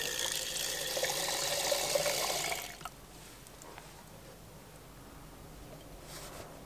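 Filtered rainwater from a whole-house rainwater harvesting system pours from an outdoor hose bib for a few seconds, a bright steady splashing stream that cuts off abruptly, leaving quiet background.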